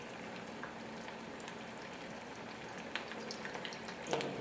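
Tuna fritters frying in a pan of hot olive oil, a steady soft crackle and sizzle with scattered pops that grow a little louder toward the end, no voices.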